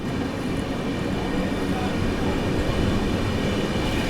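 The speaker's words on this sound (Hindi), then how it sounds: "यहाँ पे दोस्तों हम लोग ओवरटेक कर रहे हैं वलसाड सूबेदारगंज स्पेशल को।" Train noise from aboard the 12907 Maharashtra Sampark Kranti Express as it overtakes the Valsad–Subedarganj Special: a steady, loud rushing rumble of wheels and wind with no clear breaks.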